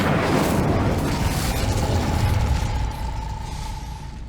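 A fire spell cast in Hogwarts Legacy bursts out as a loud, dense roaring whoosh that rumbles on for about three seconds before easing into a softer crackling tail.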